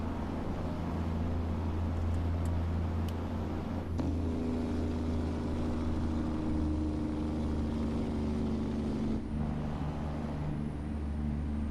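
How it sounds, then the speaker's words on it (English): A Cummins ISM truck engine drones in American Truck Simulator, a steady low hum with sustained tonal layers that shift slightly in pitch partway through, quiet and continuous. "I had forgotten how much I love this engine. That is the Cummins"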